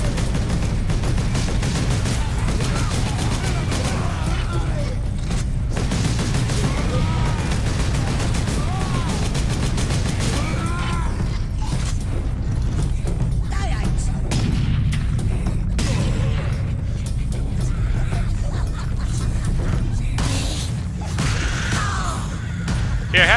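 Sustained heavy combat in Space Marine: close, loud pistol shots and bursts of gunfire with booming impacts roll on almost continuously, with brief voices under the din.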